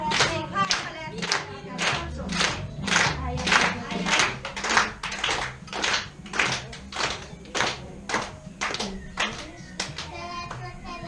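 Audience at a kindergarten year-end circus-themed children's show claps in steady unison, about two beats per second, with children's voices mixed in.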